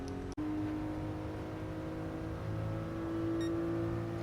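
A Toyota Supra RZ runs a timed lap, its engine a steady, fairly faint drone heard from inside, holding an even note after a brief dropout at the start.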